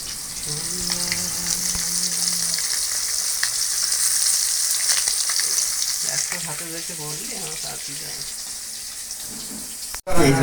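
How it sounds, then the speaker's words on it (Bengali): Koi fish frying in hot oil give a loud, steady crackling sizzle throughout, with brief spatula scrapes and stirring clatter in the later part and a sharp knock right at the end. "কই মাছগুলোকে খুব সুন্দরভাবে ভেজে নিই।"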